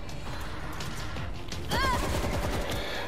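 Rapid gunfire rattles continuously in the zombie shooter World War Z, loud and close, with a short shout cutting in partway through.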